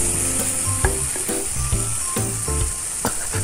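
Pepper Lunch takeout hamburger steak sizzles on a home hot plate, a continuous close frying hiss with scattered pops and light scraping sounds.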